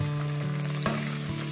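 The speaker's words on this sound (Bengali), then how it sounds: "এখন পটলগুলো একটু লাল লাল করে ভেজে নেব" Pointed gourds (potol) frying in a pan give a steady, close sizzle, with a sharp stir or scrape near the middle of the clip.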